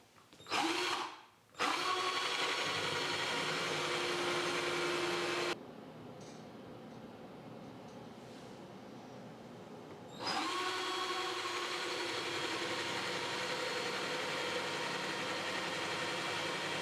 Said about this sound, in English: Now let's cut some drain holes in this old sugar mold.